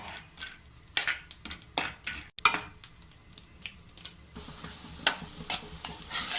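Cashews frying in a pan for rava halwa, stirred with a spoon: a steady crackling sizzle broken by repeated scraping strokes and small metallic taps, close and fairly loud.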